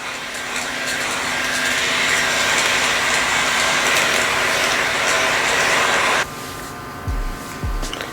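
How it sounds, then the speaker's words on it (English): An electric fan blows steadily and loudly across a face freshly misted with setting spray, a constant broadband whoosh that cuts off abruptly near the end, followed by a couple of low thumps. "Then I'm gonna use a fan just to dry it down."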